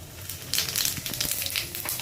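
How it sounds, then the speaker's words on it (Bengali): Dried red chillies and whole cumin seeds crackle in hot oil left over from frying fish, a soft, close sizzle with small pops over about two seconds. "শুকনো লঙ্কাটা ফোড়ন দিয়ে দিলাম আর গোটা জিরেটা দিয়ে দিলাম"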